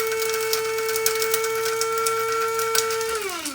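A small electric grinder whirs steadily as it grinds dried moringa leaves with plenty of stems, its high motor whine holding through rattling, clicking bits of stem before dropping in pitch as it winds down, with no talking.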